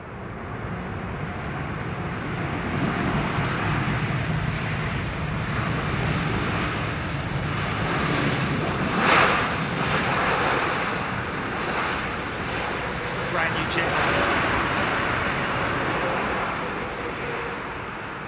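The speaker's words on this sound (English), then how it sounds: "It's not very old, that Dreamliner, is it?" A Boeing 787 Dreamliner airliner comes in to land at London Heathrow, its engines a broad, steady roar heard from outside, loud and continuous with some wind buffeting and no talk.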